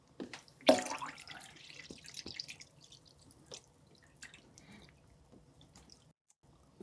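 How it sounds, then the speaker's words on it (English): Water is topped up into the tank of a cheap ultrasonic vinyl record cleaner, with records inside. A short splashing pour comes first, followed by faint trickles and scattered drips, close by and with no talking. "I think I'm going to need a bit more water in there. So I'm going to top that up"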